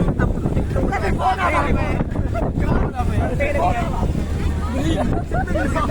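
Strong wind buffeting a microphone at an outdoor stage at night, low rumbling gusts roaring under people talking and background crowd noise.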